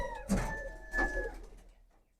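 Pigeons in a pigeon loft give two soft, close coos about half a second apart, each fading into quiet.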